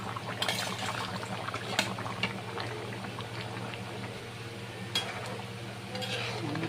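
A pot of jackfruit and paneer curry with green chillies bubbles steadily at a low boil, a continuous soft burbling with a few brief louder pops, no voices.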